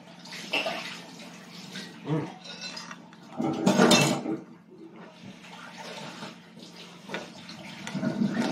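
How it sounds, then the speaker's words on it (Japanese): A child's spoon clatters and scrapes against dishes in irregular bursts at a meal, with quiet voices and room noise between the rattles. "やめて、カチャカチャしない。"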